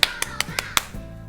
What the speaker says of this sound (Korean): 자, 우리 박수로 우리 축하를 해볼까요?